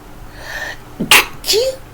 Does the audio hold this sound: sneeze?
yes